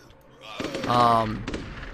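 Gunfire from the video game Unearthed aimed at mummies, a brief burst of rapid shots with a ringing tail, heard close over a faint background.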